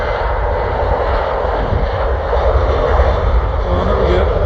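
A Jet2 jet airliner at Stansted Airport, a loud steady engine roar close by that holds throughout and swells slightly toward the end.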